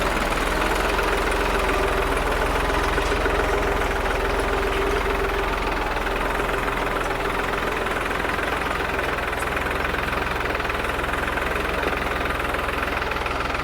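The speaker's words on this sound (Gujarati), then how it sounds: "પચાસ હોસ પાવરનું ટ્રેક્ટર છે" A heavy 50-horsepower tractor engine idles steadily with a low rumble and slight knocking vibration throughout, continuous and close, with no voices.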